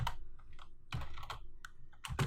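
Code is being typed on a computer keyboard, with bursts of close, crisp key clicks in an uneven rhythm and a few heavier strokes, and no voices.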